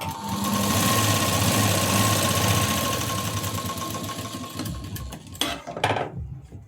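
A sewing machine runs steadily, stitching a sleeve seam on a garment, loud and close for about four seconds before slowing and stopping, followed by a few soft handling clicks.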